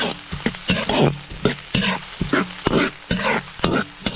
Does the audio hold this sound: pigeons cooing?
no